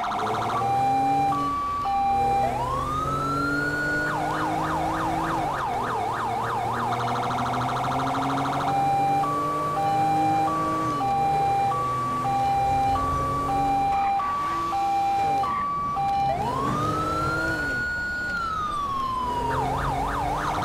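A Code 3 Mastercom B police siren in the video game GTA V, loud and close, cycling through rising and falling wails, rapid yelp bursts and a steady two-tone hi-lo pattern over about twenty seconds.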